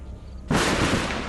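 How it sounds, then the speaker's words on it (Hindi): A sudden loud thunder crack bursts out of a quiet background during a stormy night scene in a drama, then rolls on as a dense, sustained rumble. "मुझे ना बादल के गरजने से बहुत डर लगता है।"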